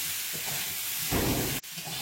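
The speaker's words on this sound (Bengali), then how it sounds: "ভালো করে নেড়ে চেড়ে ভেজে নিচ্ছি।" Pointed gourd (potol) and prawns sizzle in a hot pan while being stirred, a steady hiss with a louder surge of frying partway through, then a brief break.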